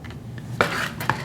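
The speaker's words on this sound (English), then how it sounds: "So you could punch all the way through like that." Leather punched through for a knife sheath, heard as two sharp, close taps with a brief scraping rasp between them, no talking.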